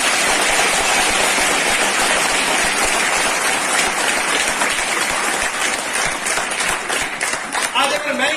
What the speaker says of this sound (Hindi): लीडर्स के लिए एक बार जोरदार तालियां होनी चाहिए।